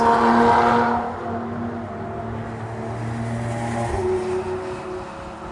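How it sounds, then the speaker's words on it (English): A supercharged Lotus race car rolling down pit lane at Watkins Glen, a continuous engine drone with a steady whine over it, loudest at first and then holding at a moderate, nearby level. "you can hear the whine of the supercharger coming from the Lotus"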